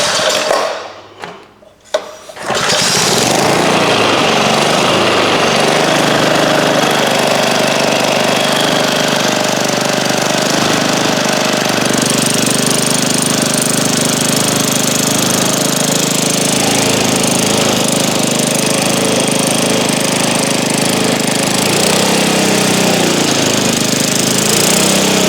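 A restored 1950s 3hp Briggs & Stratton small engine from a vintage rototiller, run slightly choked on an unsecured stand: after a brief start-up stutter it settles into a loud, steady, rapid knocking chug with rattling parts.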